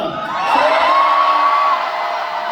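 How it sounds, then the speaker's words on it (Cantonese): A concert hall crowd at a Hong Kong fan event cheers and whoops loudly for about two seconds, a dense roar of many voices with a rising shout near the middle before it eases slightly. "滿意嘅朋友請大聲歡呼啦！"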